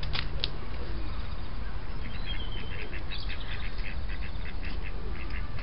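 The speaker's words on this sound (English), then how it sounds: "Uh-oh, they're arguing there, those ducks." Ducks in a park pond squabble with repeated quacks and calls, heard from a middle distance over a steady wash of wind or water noise.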